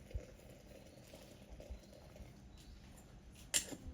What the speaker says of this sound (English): I add hot water for green tea.